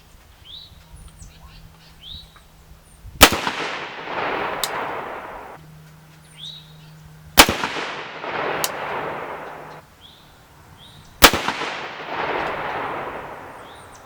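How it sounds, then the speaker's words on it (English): Three 300 Blackout rifle shots firing factory ammunition at a paper target outdoors, each a sharp, loud crack with a long rolling echo, spaced about four seconds apart, with faint birdsong between. "We're going to be shooting at that bottom left dot there."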